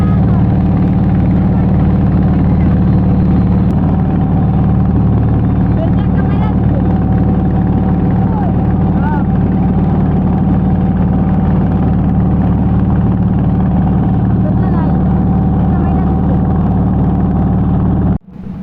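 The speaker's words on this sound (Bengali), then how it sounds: "সেখান থেকে তো লঞ্চের সাথেই জেলেদের নৌকা একসাথে" Fishing boats and launches run together on the Meghna river near Bhola, a loud, steady engine drone throughout, with voices faintly under it.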